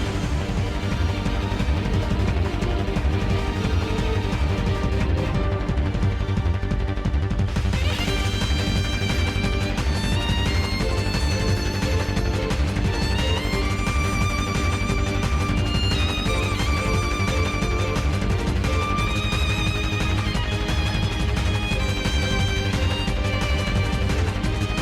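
Dark video game soundtrack for the Mysterious Figure, a dense, steady wash of low droning tones with sustained higher melodic notes entering partway through, continuous and moderately loud with no voices.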